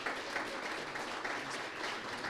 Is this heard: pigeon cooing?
no